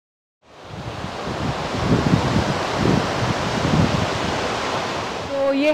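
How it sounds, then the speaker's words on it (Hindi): Murki waterfall in Murki village in Ladakh's Nubra Valley, running huge and dangerous in high flow, heard as a loud, steady broadband roar of rushing water that starts abruptly and holds without a break. "ये है मुर्की waterfall in मुर्की village. Very huge and flow बहुत ही खतरनाक है इस टाइम।"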